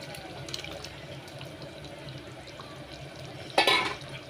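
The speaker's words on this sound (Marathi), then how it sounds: "ही कलेजी याच्यामध्ये ओतणार आहोत" Cooked goat liver tips into a pan of masala with a brief wet splash and slide near the end, after a stretch of quiet kitchen background.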